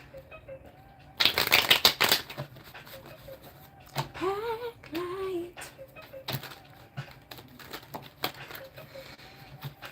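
A deck of cards is shuffled at close range, a dense burst of rapid riffling clicks followed by scattered lighter taps and card handling, with a faint voice murmuring partway through.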